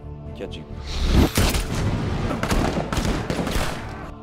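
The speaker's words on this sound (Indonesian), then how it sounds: "Sampai tembak-menembak pun terjadi, dan mengakibatkan sebagian anak buah Basilio tewas" Gunfire rings out in a film shootout scene, a series of loud, dense bursts and cracks under a talking voice.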